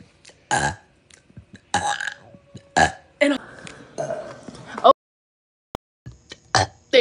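A man lets out a series of loud, close belches, several short ones and a few longer drawn-out burps, separated by brief pauses and silence.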